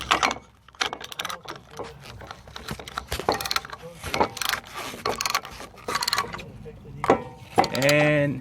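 A ratcheting brake caliper piston compressor tool clicks and clatters in repeated bursts while pads are being changed on a car's front brakes, close up, with a voice speaking briefly near the end.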